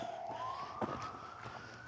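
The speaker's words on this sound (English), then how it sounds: "What the hell that goddamn siren going to?" An emergency siren wails faintly in the distance near a nature trail in Gastonia, one long rising tone, with footsteps and outdoor background.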